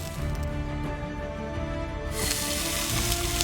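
Fire in the Sakura MMO video game crackles and sizzles continuously, a dense frying hiss that brightens and intensifies partway through over a busy game soundtrack.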